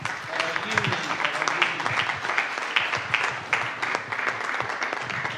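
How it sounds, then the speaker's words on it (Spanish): Audience at a jazz encyclopedia book presentation claps, producing a steady, close patter of applause with some voices murmuring underneath throughout. "un aplauso para Toño"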